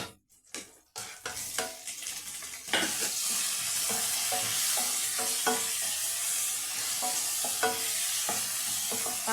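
Chopped tomatoes hit a pan of sautéed onions with a sudden loud sizzle, then keep frying steadily while a spoon scrapes and clinks against the pan in repeated stirring strokes.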